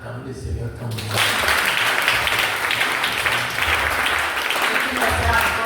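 A church congregation breaks into loud, sustained applause that starts abruptly after a brief quieter moment and carries on steadily, with a voice present beneath it.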